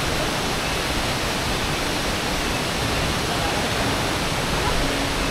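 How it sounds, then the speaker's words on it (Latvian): A hidden waterfall tucked between cliffs in the northern Bali jungle roars with a steady, dense, close rush of falling water that stays unbroken throughout. "Un šis ir apslēptais ūdenskritums."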